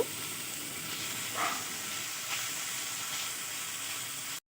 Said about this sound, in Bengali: এই তেলের মধ্যে মাংসগুলোকে ফ্রাই করে নিব